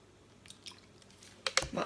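Kinetic sand is mixed with a few tablespoons of water, giving faint wet squishing and soft sticky clicks that come in sparse bursts and grow louder and denser toward the end.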